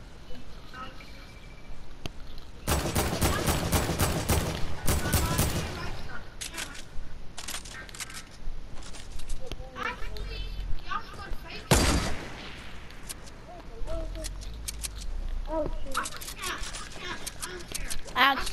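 Fortnite gunfire: loud bursts of rapid shots at intervals, one long rattling volley and several single sharp cracks, with quieter clicks and movement between them as young players talk throughout.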